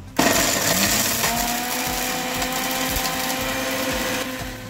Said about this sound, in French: Et puis c'est parti pour le blender.